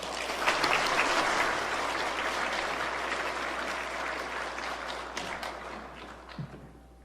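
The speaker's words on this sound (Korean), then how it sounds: "뜨거운 박수로 맞아주시기 바라겠습니다." Sustained applause from a church congregation, loud at first, then holding steady before tapering off near the end.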